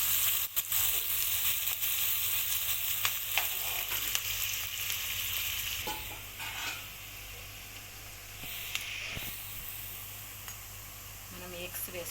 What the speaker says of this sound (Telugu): ఆనియన్స్ వేసి కొంచెం కరివేపాకు బాగా ఫ్రై చేసుకోవాలి.